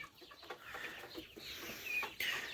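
Chickens and chicks cluck softly and intermittently, with a few higher chirps, fairly faint against a quiet outdoor background under an oak tree.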